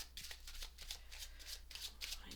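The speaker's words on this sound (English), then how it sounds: "Just going to give them a shuffle." A deck of oracle cards being shuffled by hand, a quick series of soft riffling flicks and slaps in a quiet room, close and fairly faint.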